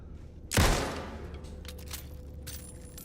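A single sharp gunshot from a gun in Alan Wake 2 bursts out and decays into a rumbling tail, followed by quieter game ambience.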